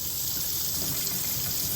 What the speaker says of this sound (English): I'm gonna add just some water over in it. Kind of fill it up with water.